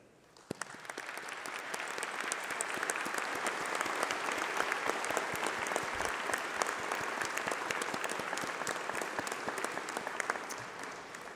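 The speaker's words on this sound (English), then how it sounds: "let's have a round of applause for all those special people, your family, your friends, your tutors" A graduation ceremony audience at UCLan breaks into sustained applause, starting with a few sharp claps and swelling into a dense, steady roar of many hands that carries on for over ten seconds.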